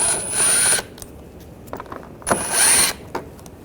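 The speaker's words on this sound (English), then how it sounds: "Using a T25 socket, take these screws out." Ratcheting socket wrench with a T25 bit backing screws out of trim on a 2009-2017 Volkswagen Tiguan 2.0L, two short close bursts of clicking ratchet with small taps between.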